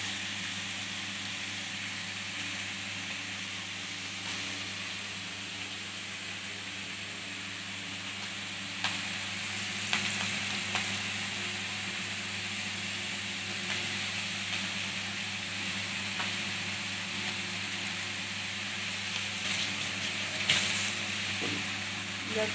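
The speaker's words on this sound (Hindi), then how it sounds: "जब तक गोल्डन ब्राउन ना हो जाए थोड़ा, तब तक इसको धीमी आंच पे तलेंगे" Banana kofta balls fry on low heat in oil, giving a soft, steady sizzling hiss that runs throughout with a few faint pops and clicks.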